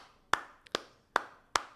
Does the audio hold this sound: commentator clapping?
yes